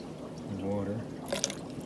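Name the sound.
water being poured for yeast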